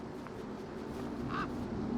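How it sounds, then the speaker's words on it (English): Duck-like bird calls in the Beyond a Steel Sky video game: one short squawk or quack stands out over a steady ambient bed of background noise. "You see all these birds all over the place?"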